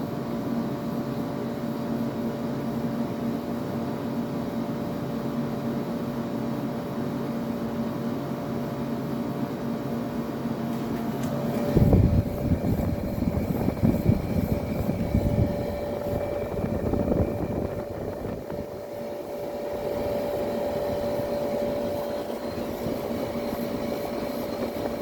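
A dirty Fedders window air conditioner without a filter runs with a steady droning hum and whir, loud and close, with a brief rattling surge partway through before settling back.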